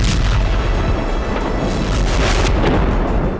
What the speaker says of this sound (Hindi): खान यूनुस के हमाद इलाके में इजरायल ने लगातार बम बरसाए।